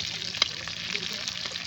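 Fish frying in a small amount of hot oil, a faint, steady crackling sizzle with one brief sharper pop, close by.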